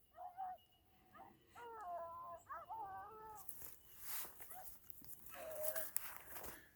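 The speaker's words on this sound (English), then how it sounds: "talking Beagles. Just talking." Beagles running rabbit scent after hard rain in Kansas bay in drawn-out, wavering howls at moderate distance, several voices overlapping in bursts with quieter gaps between.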